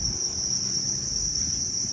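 Thai crickets on a cricket farm chirp in a steady, unbroken high trill, close and loud throughout, with no voices.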